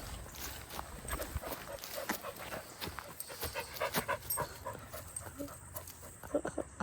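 A dog pants rapidly and steadily on a trail in a state forest during a truck camping trip, close by, with scattered footsteps and light movement around it.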